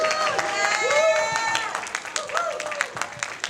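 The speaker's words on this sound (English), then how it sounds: "Give her a round of applause." Audience applause at a live event as a guest is welcomed on stage, scattered clapping that continues beneath someone speaking and cheering.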